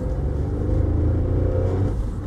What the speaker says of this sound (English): Got that unmistakable three-cylinder raspy engine noise.